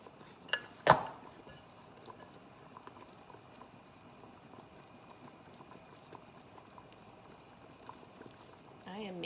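A covered pot of chicken feet soup comes to a boil with a soft, steady bubbling patter, after a couple of sharp knocks of the lid near the start.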